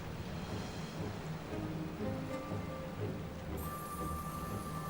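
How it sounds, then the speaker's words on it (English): Rain falls in the video game Final Fantasy XIV Endwalker as the party approaches an ominous tower. It is a dense, even patter throughout, with faint tonal game sounds layered in and no speech. "as we approach this ominous tower, it is raining"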